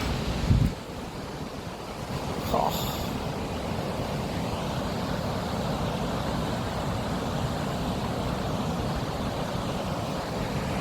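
A waterfall seen from a distance on an outdoor trekking excursion gives a steady, broad rushing roar. Wind buffets the microphone, and a couple of brief bumps come early on.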